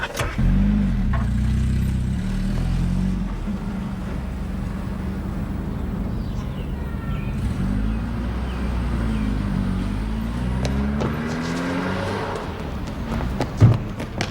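A car pulls away with a steady mid-range engine drone that shifts through gear changes, staying fairly loud throughout, with a brief louder bump near the end.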